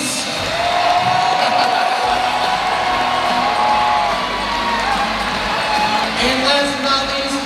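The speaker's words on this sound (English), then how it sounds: "please give a warm round of applause for Shinji Shimizu, the executive producer for One Piece." An audience at a One Piece Film Red anime panel in New York claps and cheers for a producer's introduction, a sustained wash of applause with scattered whoops and shouts, loud and full from start to end.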